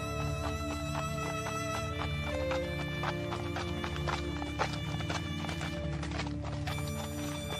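A prince's horse clip-clops along in a Hindi cartoon story, with brisk rhythmic hoofbeats and a whinny over a steady background music bed.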